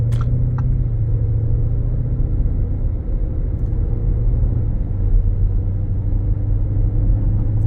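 A 2019 Lamborghini Urus with just over 13,000 miles runs on a test drive, giving a steady, loud low engine rumble that holds through the whole stretch, with road noise and no talking.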